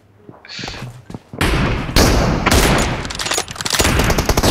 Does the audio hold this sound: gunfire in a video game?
yes